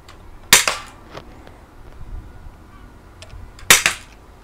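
Air guns fire at cans on an outdoor shooting range, two sharp, loud bursts of closely spaced cracks a few seconds apart, with quieter handling noise between them.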